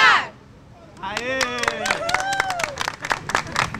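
Female military police officers clapping and cheering at an International Women's Day tribute, with a brief voice at the start, then scattered palm claps under excited shouts and voices that rise and fall.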